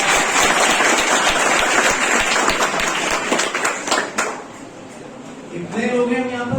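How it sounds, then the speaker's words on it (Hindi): Students clapping together at a school career seminar, a loud, dense burst of applause that fades after a few seconds, followed by a speaking voice. "जोरदार तालियां।"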